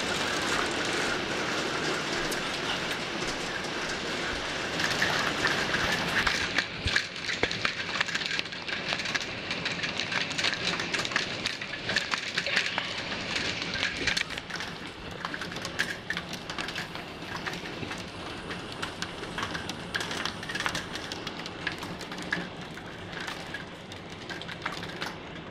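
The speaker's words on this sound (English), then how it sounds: "I'm pretty sure it's hailing." Heavy rain and hail pelt a hard surface, a dense continuous patter with sharp irregular ticks of hailstones, loud and close, growing more intense partway through.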